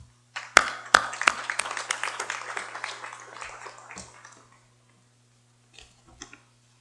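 Scattered claps break out for the state delegations at a session opening, a few sharp hand strikes growing into a thin patter that dies away after a few seconds, with a couple of stray claps afterward.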